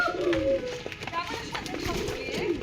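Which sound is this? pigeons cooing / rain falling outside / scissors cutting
pigeons cooing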